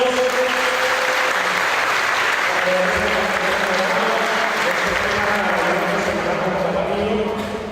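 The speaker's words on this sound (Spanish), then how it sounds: "Un fuerte aplauso al Señor, hermanos." A congregation at a church conference on the family in Estelí, Nicaragua, claps steadily and loudly, with a low voice murmuring underneath the dense applause.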